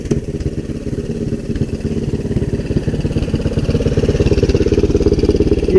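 A Kawasaki Bayou 300 ATV engine idles on a portable CDI box, a steady rapid low putter close by, growing slightly louder and fuller toward the end, with no talking.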